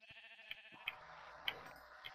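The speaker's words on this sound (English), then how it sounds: "There's another sheep." Sheep in the Minecraft video game give several short bleats, about four spaced calls across two seconds, each crisp and fairly close. There is no talk over them.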